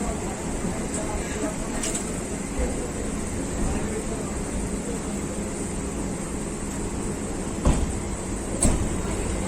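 Katwa–Howrah local train leaving on schedule, a steady loud rumble of carriages rolling throughout, with a couple of sharp clanks near the end.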